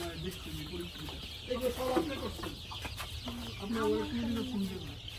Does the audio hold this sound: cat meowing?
no